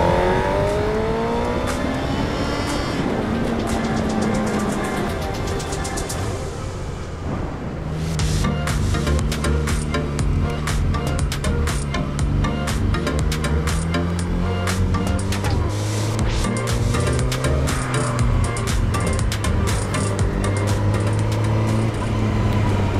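A motorcycle rides along a road toward a fuel station, its engine droning steadily with gear shifts and rising revs, loud wind rush throughout and no speech.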